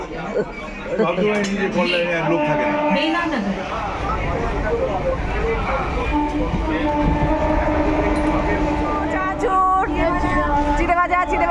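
A local train rumbles and rattles along steadily, with people talking nearby over the constant rolling noise of the carriage.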